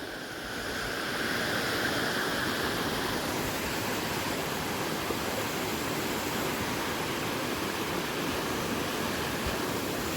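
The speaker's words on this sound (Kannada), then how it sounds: "ನೋಡಿ ನೀರು ಹೆಂಗೆ ಹರಿತಿದೆ" Water of a stream flows steadily in Chikkamagaluru during the monsoon season, a dense even rushing wash that holds at the same level without pause after a brief quieter start, with no voices.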